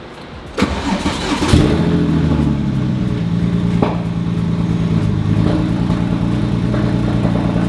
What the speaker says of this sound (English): Let's go for a first start. I pray it doesn't misfire.